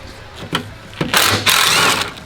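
Close-up tool noise as a T40 Torx bit backs out bolts holding the front skid plate on an Ineos Grenadier, with short clicks, then a loud sustained whirring burst that stops and starts again.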